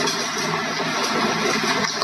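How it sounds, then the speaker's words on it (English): Continuous hissing wash of rain from a Glade portable white noise machine, steady and fairly loud, with no pauses or voices. "It sounds like rain"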